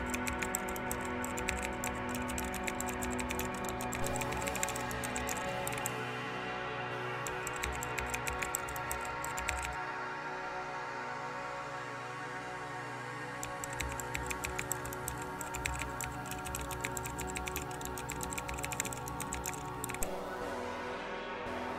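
Computer keyboard keys clack in quick, close bursts of typing while a command is entered on a Linux machine, pausing briefly midway before another run of rapid keystrokes.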